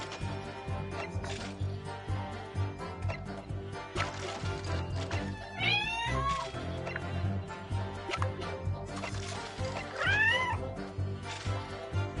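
A cat meows close by, two distinct rising, wavering cries a few seconds apart over a low, steady background.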